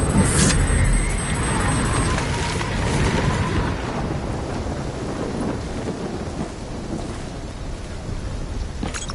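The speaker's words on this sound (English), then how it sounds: "Incoming superstorm too strong. Storm's only gonna get worse." Thunderstorm in the video game Call of Duty Black Ops 3: a steady, loud roar of rain and wind with low rumbling thunder, brighter crackle at the start and a sharp burst near the end, no talking.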